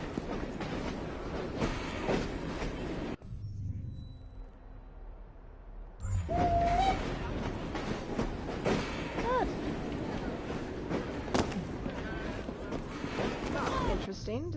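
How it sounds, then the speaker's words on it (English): A train rolls in during the video game Assassin's Creed Syndicate, a continuous rumble with clattering and a brief whistle-like tone, running under someone talking through most of it, with a short quieter gap partway through. "Train's coming in."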